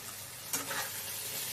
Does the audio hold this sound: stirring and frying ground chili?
yes